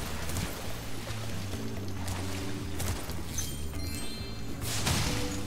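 Rushing waterfall in Spyro Reignited Trilogy, a steady broadband wash of falling water that runs the whole time under game music and effects, with a few brief splashes and whooshes.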